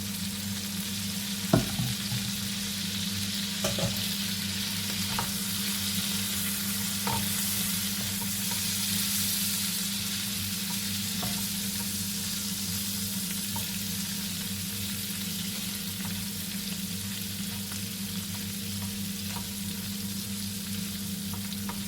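Potato gnocchi sizzling in a pan with leftover seared duck juices, a steady close hiss of frying with occasional clicks as the pan is moved, over a low kitchen hum.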